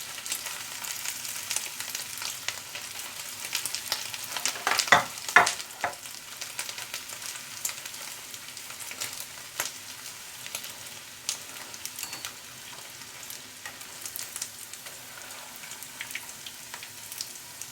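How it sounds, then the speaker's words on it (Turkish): Oil sizzles and crackles steadily as meatballs fry in a pan, with a couple of sharper spatters and utensil clicks early on. "Şimdi de köftelerimizi kızartacağım."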